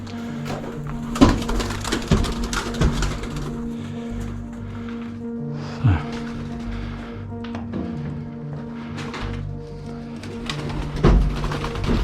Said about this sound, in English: These birds are going crazy here.